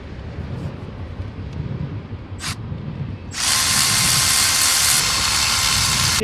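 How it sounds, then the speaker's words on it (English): A Milwaukee right-angle power tool works on the alternator bolts of a 2001–2011 Ford Ranger or Explorer with a 4.0 V6. After quiet clicks and a brief burst, it runs in one loud, sustained whirring spell close by. "I like to use the Milwaukee right angle"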